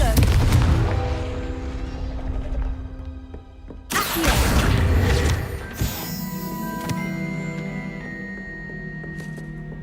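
Confringo blasting spell in a video game, heavy booming explosions with rumbling tails, a sharp second blast midway and a smaller crash after it, with ringing tones fading out at the end.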